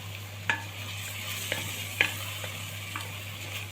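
Meat sizzles in a pan with garlic, onion and pepper, a steady close frying hiss broken by a few sharp scrapes of a spoon stirring at intervals.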